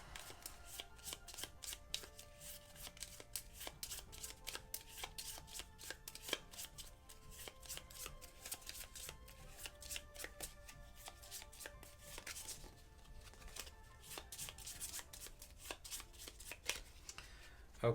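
A deck of board game cards is shuffled quietly and continuously at close range, a steady stream of soft riffling flicks and card snaps throughout.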